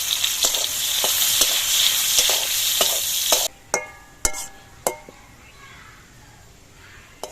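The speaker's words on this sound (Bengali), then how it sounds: "ঘিটা গরম হওয়ার পর ওই ঘিয়ের মধ্যে আমি কিছু কাজু ভেজে নিচ্ছি।" Cashews fry in hot ghee in a wok with a loud, dense sizzle for several seconds, then the sizzle drops away, leaving a few sharp clinks of a spoon against the pan.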